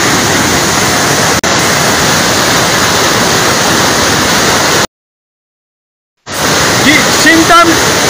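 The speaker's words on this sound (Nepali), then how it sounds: "खोला जम्मै यता फर्केको छ नि" Floodwater from a swollen river pouring across the Dikchu–Singtam highway, a loud, dense roar that runs continuously, cuts out briefly, then resumes with a faint voice near the end.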